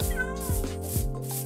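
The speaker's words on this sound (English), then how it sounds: "I hear a cat." A cat in the Minecraft video game meows in two or three short, clear cries over steady game background sound, close and fairly loud.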